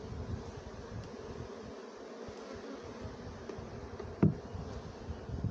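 Honey bees buzz steadily around an opened hive in an outdoor bee yard late in the day, a continuous insect drone with one brief louder close pass.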